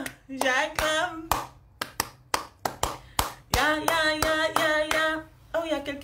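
Hand clapping in several bursts of quick claps separated by short pauses, with a steady background tone running underneath, at a live-streamed Central African election discussion in Bangui.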